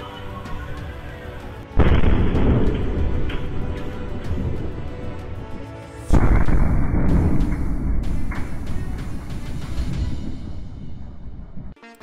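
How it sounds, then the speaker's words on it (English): Fireworks go off in two large bursts, each a loud, sudden boom followed by rumbling crackle that slowly fades, with the second blast about four seconds after the first. "Improper handling of fireworks can cause shockwaves to strongly impact surrounding areas."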